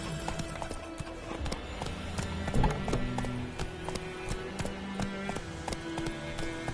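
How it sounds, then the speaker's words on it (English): Horse hooves in the Witcher 3 video game sound as a steady, close clip-clop over a continuous bed of game ambience and music, with no talk. "Whoa there, Roach"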